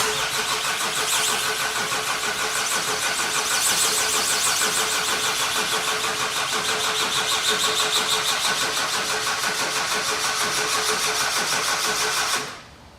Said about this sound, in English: Got it turning over, guys.